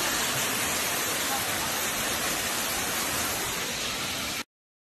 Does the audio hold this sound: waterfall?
yes